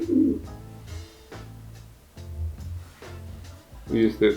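Female racing pigeon cooing in close, soft repeated bursts, with deep throaty coos at the start and end and someone talking throughout.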